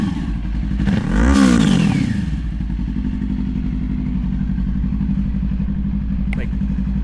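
Yamaha R3 motorcycle (2026) fitted with a Coffman's slip-on exhaust, the engine revving up briefly then settling into a steady, close rumbling idle, with a short clack near the end.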